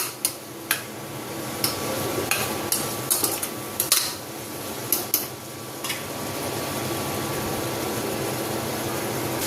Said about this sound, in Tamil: பிரியாணி மசாலா பச்சை வாடை போக வதங்கட்டும்